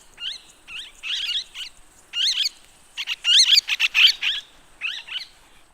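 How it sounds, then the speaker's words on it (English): A parakeet gives bursts of sharp, high chirps and twittering calls in an irregular rhythm, close and clear against a quiet background with no other sounds. "Parakeet."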